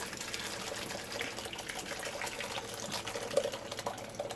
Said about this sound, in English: use a strainer and you catch the whey